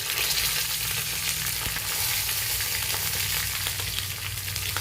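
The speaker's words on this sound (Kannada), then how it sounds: "ಸಾಸಿವೆಗೆ ಚಟಪಟ ಅಂತ ಇದೆ. ಇವಾಗ ನಾನು ಕರಿಬೇವು ಹಾಕ್ತೀನಿ." Mustard seeds and curry leaves sizzle and crackle in hot oil in a pan, a steady loud frying hiss with scattered pops throughout, heard alone without voices.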